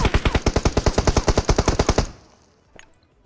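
Rapid automatic gunfire in the PUBG Mobile battle game, a steady burst of about twenty loud, close shots for two seconds that stops abruptly, followed by a faint distant pop.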